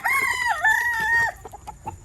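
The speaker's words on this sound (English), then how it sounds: "Here's my favorite chicken." A rooster crows loudly and close at a backyard chicken coop in the morning, one long drawn-out call, followed by a few scattered clucks from the hens.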